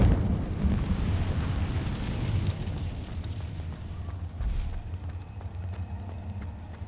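In Hogwarts Legacy, an Incendio fire spell erupts with a loud, rumbling whoosh of flame that swells at once and then slowly fades, with a second, smaller burst of roar midway through.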